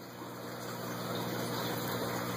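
Water pours steadily into a bell siphon pipe with a continuous, fairly quiet rushing gush and a faint pump-like hum, with no talking.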